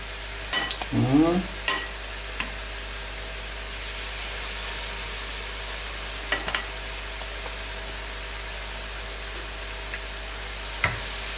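Oil sizzles steadily as zucchini and potato fritters fry in a pan, a constant hiss broken by a few sharp clinks of a utensil.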